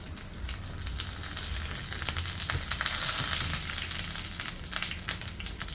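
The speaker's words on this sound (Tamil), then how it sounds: "நல்லா பொரியட்டும்" Fennel, cumin, urad dal and mustard seeds fry in oil as a tempering for cabbage rice, a steady crackling sizzle with scattered pops that swells and eases, no voices present.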